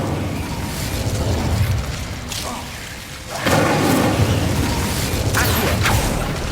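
Incendio fire spell cast in Hogwarts Legacy, a loud burst of whooshing flame and crackling roar that swells, fades briefly, then flares again with sustained rushing noise.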